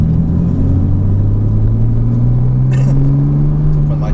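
A Porsche Cayman S engine drones steadily under acceleration, its pitch climbing gradually over a constant road rumble, close and loud with no pause.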